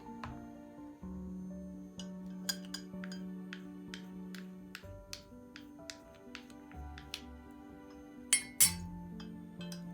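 A spoon stirring a pekmez and lemon mixture in a glass, quick bright clinks tapping the glass repeatedly over a low hum, with a couple of louder knocks near the end.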